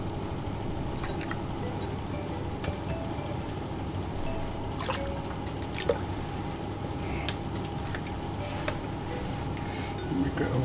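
Apple juice and sugar syrup for greengage punch are stirred, a soft continuous liquid swishing with occasional light clinks and drips, close up, with no clear talking.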